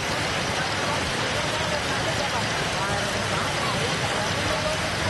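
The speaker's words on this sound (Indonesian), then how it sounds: "hujan deras mengguyur Jakarta sejak sore hari" Heavy rain pouring down in Jakarta: a dense, constant roaring wash of rainfall that stays loud and steady throughout.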